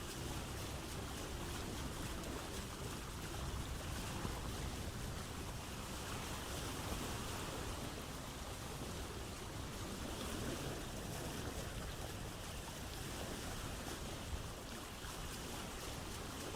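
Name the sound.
boat sailing through waves at night in Vintage Story video game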